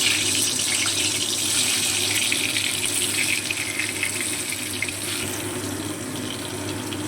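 Pieces of pointed gourd (potol) fry in hot oil in a kadai, giving a loud, steady, close sizzling hiss that eases slightly toward the end.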